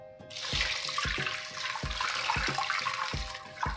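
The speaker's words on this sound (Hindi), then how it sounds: "टोकरी में डाल देते हैं मटर और इसको भी हम धो लेते हैं" Peas being washed in a basket under a running tap: a close, steady splash of flowing water, broken by a string of regular thumps and clatters as the basket and peas are moved about.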